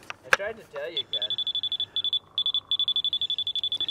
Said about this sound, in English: So that's a solid beep, pretty much.